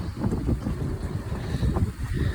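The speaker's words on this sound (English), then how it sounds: "don't know if you can hear the wind howling" Strong wind from a tropical storm rushes and buffets nearby in a continuous low roar with gusty surges, with no voices.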